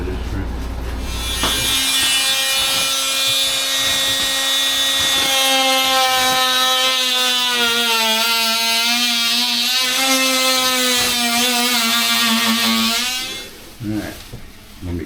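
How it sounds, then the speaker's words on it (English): A power saw cuts out sheetrock with a sustained whining buzz and a pitch that wavers slightly as it bites. It runs close and loud for most of the stretch before stopping. "Because I'm the one that usually cuts the sheetrock out."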